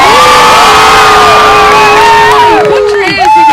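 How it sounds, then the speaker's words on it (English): A loud crowd at an Alaska State Fair log rolling contest cheers, whoops and shouts continuously, close and dense, with a voice over a public address system booming through the roar. "Who's cheering for Palmer?"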